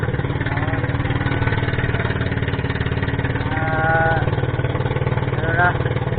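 A steady, rumbling boat engine, one of its engines having trouble, drones throughout, loud and close, with voices talking faintly over it.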